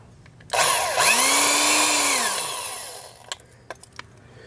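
Power drill with a wax-coated bit spins up and bores into a workpiece during a wheel swap, one loud close run of about two and a half seconds whose pitch rises and falls, followed by a few light clicks.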